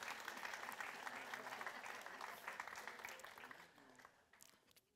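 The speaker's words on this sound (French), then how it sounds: "Est-ce qu'on peut l'applaudir?" A live audience applauds after a performer calls a volunteer named Raphaël to the stage, a dense, steady wash of clapping that holds for several seconds and then thins and fades toward the end.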